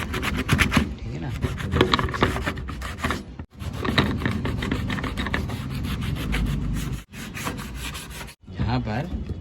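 Wood being sanded by hand, a steady scratchy rubbing that runs in long continuous strokes with a few brief pauses, close and fairly loud, with a voice coming through in places.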